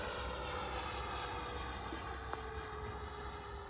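A 64mm EDF RC jet plane flies at a distance, its ducted fan giving a faint, steady whine with a thin high tone that drifts slightly in pitch, with no talking.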